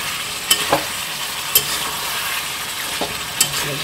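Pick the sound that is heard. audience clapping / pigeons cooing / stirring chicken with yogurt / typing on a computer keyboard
stirring chicken with yogurt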